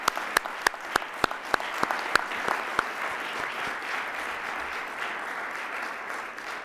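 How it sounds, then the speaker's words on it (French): Audience applause for the panelists at a democracy colloquium, opening with a few sharp, distinct claps that quickly swell into a sustained, even roar of clapping from a full room. "On peut vous offrir une bonne main d'applaudissement."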